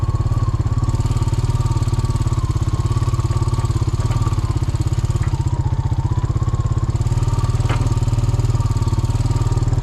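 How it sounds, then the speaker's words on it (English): A vehicle engine drones steadily while driving out to a hunting club, a low, even, close rumble throughout with slight rattles and no talk. "And then we'll be driving, doing a little bit of driving."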